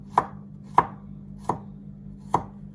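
Four slow, evenly spaced knife chops on a cutting board as ginger is sliced, each a crisp, close thud against a faint background hum.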